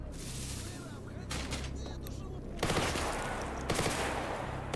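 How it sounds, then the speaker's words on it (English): A bandit opens fire in STALKER GAMMA: a few spaced gunshot bursts crack over a constant low drone, the loudest coming in the second half. "Are you shooting at me?"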